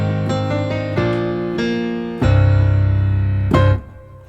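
Solo piano playing the closing line of a song at a moderate tempo, with distinct struck notes, a held low chord in the middle, and a final accented chord, close and with no talk.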